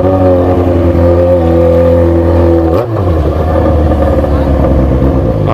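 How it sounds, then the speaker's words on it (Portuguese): A car rushing up close behind, its engine droning loudly and steadily with a brief shift in pitch partway through, under the cabin noise of another moving vehicle. "Tem um carro apressadão aqui atrás de nós."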